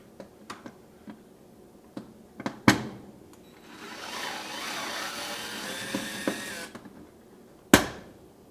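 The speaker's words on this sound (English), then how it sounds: "Now, remove the 2 Phillips screws." Two Phillips screws come out of an LG range oven, heard as scattered close clicks and taps, a few seconds of soft whirring from a driver, and a sharp clack near the end, all faint and with no speech.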